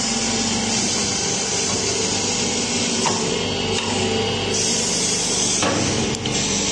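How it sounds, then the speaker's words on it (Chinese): A double-head drilling machine on an automatic cycle bores holes in wooden round bars, producing a loud, steady mechanical whine and drone with a few sharper knocks as the bits cut. "它就是自动启动，然后它就是可以自动循环钻孔。"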